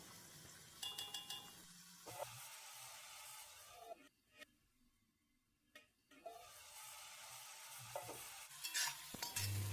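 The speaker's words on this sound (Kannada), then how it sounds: "ಅಲ್ಲಿವರೆಗೂ ಒಂದು 2ರಿಂದ 3 ನಿಮಿಷ ಫ್ರೈ ಮಾಡ್ಕೊಳ್ಳೋಣ" Onions and tomatoes frying in oil in a pan for garlic pepper rice, heard as soft sizzling and stirring scrapes that stop for a brief near-silent gap, then resume with a few light clinks.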